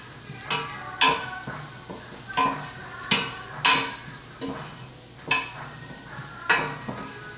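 A spoon scrapes and knocks around a pot of spiced corn chowder base over medium-high heat, giving a series of distinct, close clanks and scrapes spaced about half a second to a second apart over a faint sizzle.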